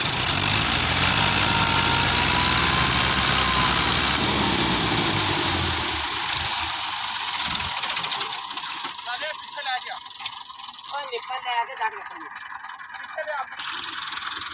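A Massey Ferguson 240 tractor stuck in soft, loose ground runs its engine with a steady rumbling drone that eases off midway into a lower idle with knocking, while people talk nearby.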